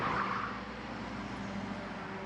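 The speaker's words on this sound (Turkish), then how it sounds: "Biraz şu anda tır trafiği arttı." Heavy truck traffic rolls along a road beside the Kura River valley in Georgia, a steady broad engine and tire roar that swells slightly at the start and then holds at a constant level, heard without talk.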